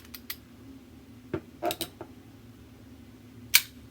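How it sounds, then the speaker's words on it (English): Releasing the lever on a tire repair kit plug gun gives a few quick, close clicks and snaps, ending in one sharp metallic snap as the pin flies back, with no voices. "Now the gun, you push this lever, the pin flies back."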